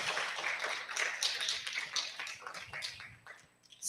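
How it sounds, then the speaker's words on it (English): Applause from an audience at a Sunday morning satsang service: dense, steady clapping at a modest level that lasts the whole stretch and thins slightly toward the end. "I think she deserves another round of applause for that."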